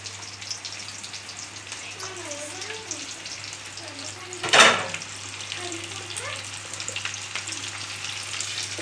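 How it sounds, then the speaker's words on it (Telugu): Onions drop into hot oil in a home pan on a stove, giving a steady sizzle with a brief louder burst of spitting at the moment they go in, then a continuous fry with faint voices underneath. "మమ్మీ ఆయిల్ అయితే వేసేస్తుంది. ఇప్పుడు ఆనియన్స్ వేస్తుంది."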